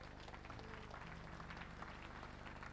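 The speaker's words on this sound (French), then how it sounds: "Applaudissons Jésus" A church congregation at a bishop's ordination service claps together, a steady wash of applause that stays faint and even throughout.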